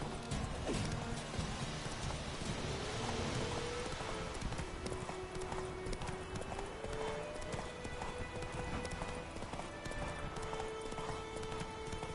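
The horse Roach, from a video game, clip-clops at a steady walking rhythm with repeated hoof knocks, loud and close, over a continuous game ambience and tonal background drone.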